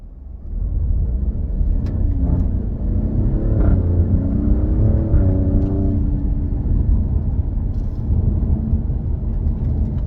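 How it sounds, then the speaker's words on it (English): An Alfa Romeo Giulia Quadrifoglio's exhaust rumbling and warbling steadily at a moderate distance, a low continuous engine drone that swells slightly before settling. "you can hear the exhaust warbling away in the background"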